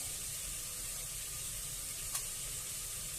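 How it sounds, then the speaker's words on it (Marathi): Sprouted chickpea masala ingredients sautéing in a pan give off a steady, even sizzle and hiss, fairly quiet and unbroken, with a single light utensil tap partway through. "हे सर्व साहित्य असं व्यवस्थित छान परतून घ्यायचंय"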